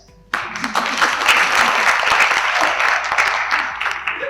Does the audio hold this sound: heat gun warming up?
no